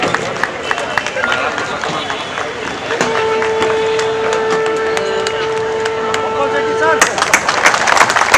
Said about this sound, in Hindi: एक बार फिर से हम जोरदार तालियां करके हम साहब का अभिनंदन करेंगे